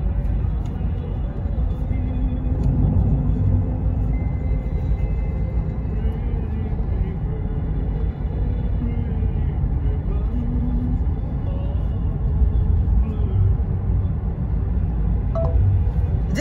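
Steady low rumble inside a moving car, a constant road and engine drone filling the whole stretch with no breaks.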